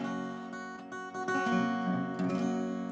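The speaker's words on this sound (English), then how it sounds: "watch how beautiful this bar chord sounds" A strummed guitar barre chord rings out with a faint buzzing rattle, sustained for a few seconds with no talking.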